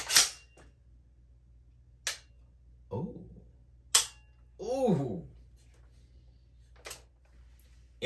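An AR9 rifle fitted with a CMC trigger gives several sharp, isolated cracks spaced a couple of seconds apart, close and crisp, with someone talking briefly between them.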